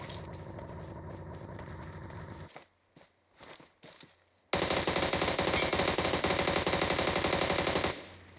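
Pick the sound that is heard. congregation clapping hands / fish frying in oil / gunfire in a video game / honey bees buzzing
gunfire in a video game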